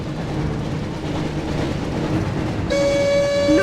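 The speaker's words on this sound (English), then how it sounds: "Looks like we found the train, Ron." A train rumbles along steadily in the Harry Potter Chamber of Secrets PS1 video game, a loud continuous rolling roar, and a sustained horn-like tone comes in near the end.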